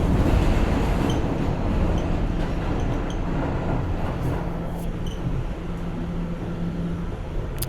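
An R179 New York subway car rolls through a local station at 135th Street, a loud continuous low rumble with rattling wheels and faint metallic squeal, gradually easing as it passes.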